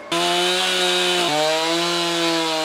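A Stihl MS-362 chainsaw cuts a log flat for carving, its engine screaming at high revs in a loud, steady whine that dips briefly in pitch under load midway, then settles again, close by with no talking.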